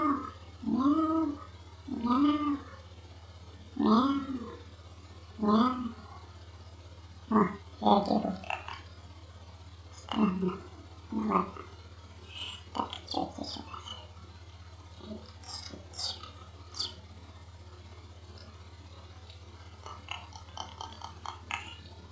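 A cat in the video game Stray meows repeatedly, with clear, close calls spaced every second or two over a steady low hum, followed by quicker, lighter chirps and clicks toward the end.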